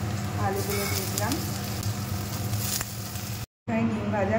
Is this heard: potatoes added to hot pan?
yes